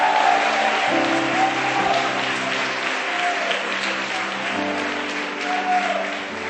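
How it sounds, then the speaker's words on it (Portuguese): A church congregation bursts into sustained applause during a Sunday service, dense clapping that fills the room, while a sustained keyboard or organ chord plays underneath and a few shouts rise from the crowd. "Diga amém, dê um aplauso a ele, libere um grito de júbilo"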